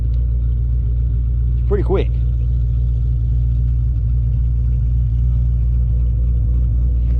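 A 2004 Mustang Cobra with a ported Eaton supercharger idles loud and close in a deep, steady rumble, while someone speaks briefly over it near the start.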